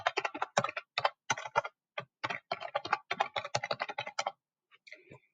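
Someone types a username and password on a computer keyboard in quick bursts of close, crisp key clicks with short pauses between them, ending in a few isolated taps.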